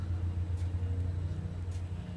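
Airboat engine at a Florida wildlife park rumbling steadily in the background, a low, continuous drone at moderate distance with no talk over it.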